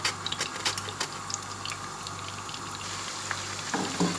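Three medium sliced onions sizzle in oil in a pan as they fry toward golden brown, with a steady close crackle and some sharper pops and stirring taps near the start.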